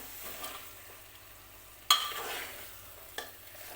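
Mutton is stirred into hot oil for biryani, a quiet sizzle broken by one sharp clatter of a spoon against the pot and a smaller knock later.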